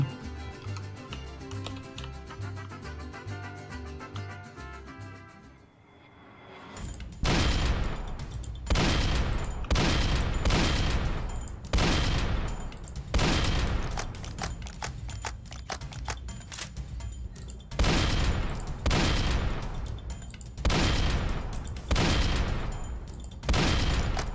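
Rapid gunfire rings out in the Roblox game Dead Rails, coming in dense repeated bursts of loud shots with short pauses between them, after a stretch of game music at the start.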